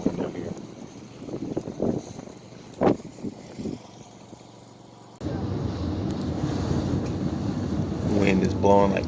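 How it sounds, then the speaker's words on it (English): Strong wind gusts around 50 mph blow outside an RV window in Quartzsite, Arizona, a rough roar that swells in the second half after a quieter stretch with someone talking. "Wind is blowing like crazy right now."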